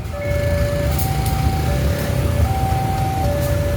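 Steady tonal whine from a CC206 locomotive's dynamic brake west of Madiun station over a loud low rumble of rail traffic, the pitch stepping slightly as it runs.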